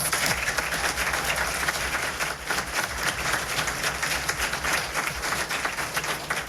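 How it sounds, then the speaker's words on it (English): A crowd at a student entrepreneurship demo day gives a long, steady round of applause, many hands clapping at an even level throughout with no voices over it. "let's give them all a round of applause"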